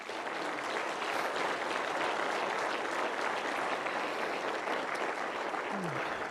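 Church congregation at an evangelistic campaign in Bolivia gives sustained, even applause, a broad wash of many hands clapping at moderate distance, with faint voices mixed in.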